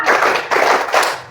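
Children clap together in a classroom counting game, three loud group claps with short pauses between, close and sharp, no voices over them.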